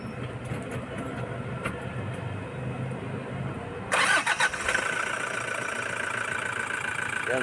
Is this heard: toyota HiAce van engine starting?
yes